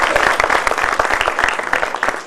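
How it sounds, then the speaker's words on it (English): Audience applause fills a 2016 IBDP graduation ceremony hall: loud, dense, continuous clapping from a large crowd, close and steady throughout. "give a huge round of applause to our principals, teachers and parents"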